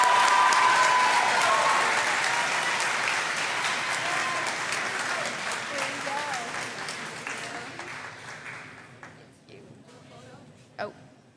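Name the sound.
audience applause at an awards ceremony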